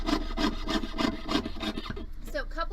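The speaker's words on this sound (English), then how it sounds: "now I'm just going to start cutting, and notice I'm just cutting through the paper and the metal at the same time" A hand saw cuts through sheet metal with a paper template glued on, giving a quick, even back-and-forth rasp of about eight strokes close by, slowing and trailing off at the end.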